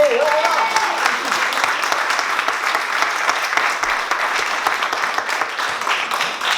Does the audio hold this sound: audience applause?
yes